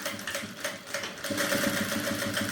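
A sewing machine runs a steady rapid stitch across a purse's card pocket, the mechanical whir continuous and close, picking up slightly in intensity partway through.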